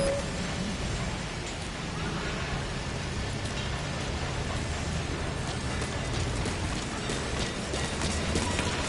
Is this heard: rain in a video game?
yes